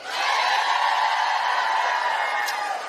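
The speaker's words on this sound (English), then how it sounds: "let's give a round of applause to those who have already voted" Outdoor crowd at a Women's March rally at the White House applauding and cheering those who have already voted: a steady wash of clapping and whoops from many people, sustained for a few seconds.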